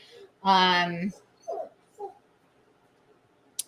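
German Shepherds whimper to be let outside: one long, loud whine near the start, followed by two shorter, softer whimpers, close by in an otherwise quiet room.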